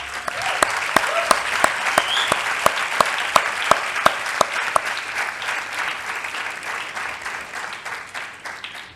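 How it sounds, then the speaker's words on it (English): An audience at a graduation ceremony gives parents a sustained round of applause, with one sharp, regular clap standing out close by over the crowd, fading toward the end. "could we give all our parents a round of applause"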